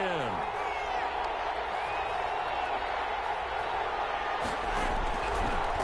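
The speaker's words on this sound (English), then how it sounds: "Crowd getting in it a bit already." A football stadium crowd at a Jets vs Chargers game keeps up a steady roar of cheering under a commentator's voice.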